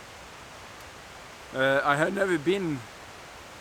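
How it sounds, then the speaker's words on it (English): Brudslöjan waterfall at Halleberg rushes as a steady broadband roar in the background, with someone speaking over it partway through. "Probably you can hear the sound of this waterfall behind me"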